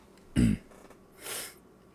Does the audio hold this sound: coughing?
yes